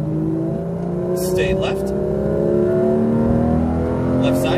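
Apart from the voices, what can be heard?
Porsche GT3 RS engine accelerating on track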